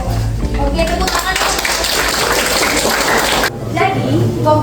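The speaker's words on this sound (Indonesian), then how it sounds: "Oke, tepuk tangan." Audience clapping at an Indonesian outreach session on turning organic waste into compost, a dense continuous patter of many hands that swells for several seconds and then cuts off into room murmur and a voice.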